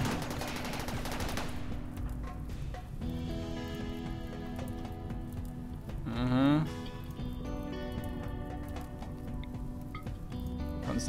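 Rimworld gunfire in a German Let's Play of a brutal survival fight, heard as scattered shots and short bursts under steady game music, with someone talking over it.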